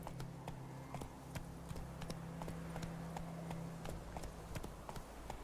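Horse galloping in the Witcher 3 video game, a steady rapid clip-clop of hooves throughout at moderate level, alone without talk.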